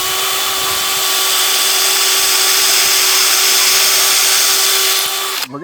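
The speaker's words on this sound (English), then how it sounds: "let's go ahead and pre-drill some holes" A power drill whines at a high, steady pitch while pre-drilling holes in wood for a predator-proof chicken gate. The tone is loud and close, running continuously before cutting off abruptly at the end.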